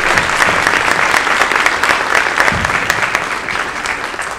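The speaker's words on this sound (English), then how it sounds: "give a big round of applause to these fabulous students" An audience at an elementary school parent support dinner gives sustained applause for student servers, the clapping dense and steady throughout and easing slightly toward the end.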